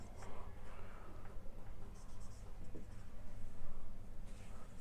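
Handwriting a finance question, soft scratchy pen strokes in short bursts across a page, faint and close, over a low background hum.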